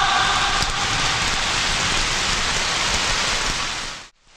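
Steady heavy rain falling in a Telugu film scene, a dense even hiss of downpour that carries loud and unbroken throughout before cutting off abruptly at the very end.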